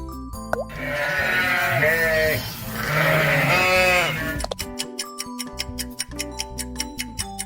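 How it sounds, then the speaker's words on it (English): Sheep bleat in two drawn-out, wavering cries close to the microphone, followed by a steady ticking that runs to the end. "Sheep."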